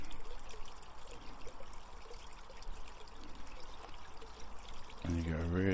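A garden pond waterfall splashes and trickles in a steady outdoor wash of falling water, with a voice speaking over it near the end.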